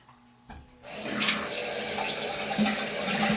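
A GEM 1912 safety razor rinsed under a running bathroom tap, water switching on after a brief clunk and then gushing steadily and loudly into the sink, close up with no speech.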